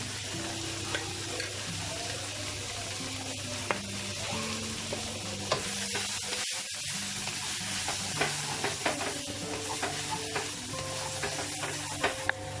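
Capsicum, spring onion and green chili are stir-fried for beef fried rice, a continuous sizzle under repeated scraping and tapping of a spatula in a pan, with no talk.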